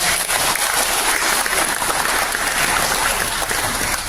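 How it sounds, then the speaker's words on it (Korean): A congregation at a memorial service for General Paik Sun-yup gives sustained, dense applause that fills the room evenly from start to finish without pause. "이런 점에서 노력하신 분들에 대해서 큰 박수 한번 해주시기 바랍니다."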